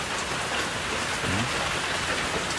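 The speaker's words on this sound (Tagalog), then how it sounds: "badungog pa mga inyo nga nay background sa uwan" Steady rain falls throughout, a dense even hiss of drops on surfaces, close and continuous with no voices.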